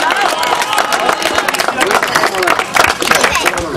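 Clapping from a crowd of spectators at a village sports competition award ceremony, dense and steady across the whole stretch, mixed with crowd noise and voices.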